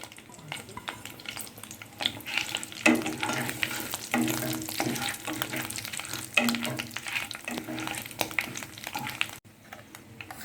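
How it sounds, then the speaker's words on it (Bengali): Whole bay leaf, cinnamon, green cardamom and cumin seeds crackle and sizzle in hot oil for cream paneer, a steady close frying hiss with small pops, with no talking. "ফোড়ন দিচ্ছি তেজপাতা দারচিনি ছোটো এলাচ আর এই গোটা জিরে"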